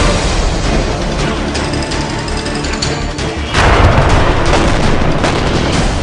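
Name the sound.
explosion in news footage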